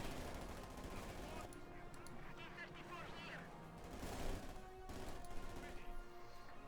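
PPS submachine guns fire on an MG5 machine-gun position in Company of Heroes 2. Bursts of rapid gunfire crackle through the battle noise under continuous commentary.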